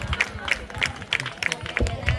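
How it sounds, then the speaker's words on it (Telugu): Crowd of children at a church event clapping in an even, rhythmic patter of claps that runs the whole time, with low murmur underneath. "వెరీ గుడ్, క్లాప్స్ కొట్టండి"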